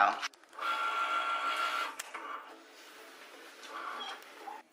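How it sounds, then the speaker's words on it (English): A Cricut cutting machine slices a piece of black vinyl laid on its mat, giving a steady, fairly close mechanical whirring hum that runs for several seconds, with short motor shifts and faint clicks, and no talking. "I'm gonna end up putting it on my Cricut mat here, and we're gonna go on and cut out his name"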